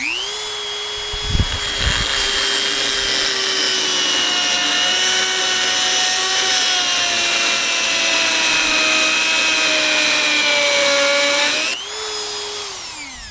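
Loud, steady whine of a power cutting tool slicing through a Toyota Tundra suicide-door part, running continuously for about ten seconds with a few sharp clatters at the start, then spinning down near the end.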